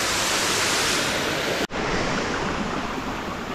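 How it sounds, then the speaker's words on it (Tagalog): A waterfall near Tuay Falls pours with a dense, steady roar of falling water, loud and close, interrupted once by a brief cut midway, with no voices. "So may nakita kami falls din na mahaba rin na taas."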